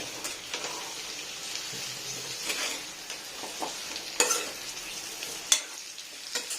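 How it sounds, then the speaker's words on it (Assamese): Pork and pumpkin fry in a pan, a steady sizzle under the scrape of stirring, with a few sharp clacks of the utensil against the pan. "ৰঙালাওখিনি দি এতিয়া অকণমান মিক্স কৰি লৰাই"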